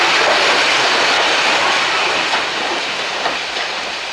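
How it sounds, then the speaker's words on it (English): Steam locomotive 34007 Wadebridge hauls a passenger train through Ropley past a railway boiler shop, with a steady rolling rumble and rhythmic clickety-clack of carriage wheels passing close, fading slightly toward the end. "34007 Wadebridge passes the railway's boiler shop at the head of the 2:25 p.m. Alton to Alresford service."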